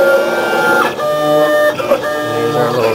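Vision VE 810 engraving machine on a Ka-Bar military knife, with loud, close motor whirring and tonal stepper whines that shift pitch as the head moves, continuous over several seconds.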